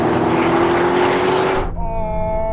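Roaring engines of cars in a drag race between a BMW X4M, AMG G63, Porsche Cayenne Turbo and Bowler Bulldog V8, a loud rising blast that cuts off abruptly into a quieter whining drone.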